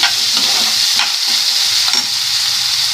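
Semiya upma sizzles and fries in a pan while it is stirred, giving a continuous loud hiss with soft scraping strokes and no talking.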